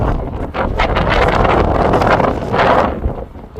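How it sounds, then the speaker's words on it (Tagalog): Strong wind blows hard at an outdoor spot, roaring and buffeting the microphone in loud, uneven gusts with no voices. "Lakas ng ihip ng hangin."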